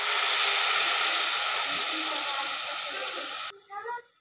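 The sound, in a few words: water poured into frying hilsa masala, sizzling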